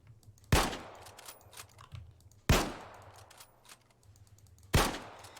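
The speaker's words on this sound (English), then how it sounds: "I'm going to reload it, so I'm completely empty, and as it's a landfill, I'm going to load 2 clips of 5 rounds." A bolt-action rifle in the IFA3 game being reloaded with clips of five rounds: three sharp, loud metallic clacks spaced about two seconds apart, each trailed by faint clicks and rattles, with no talking.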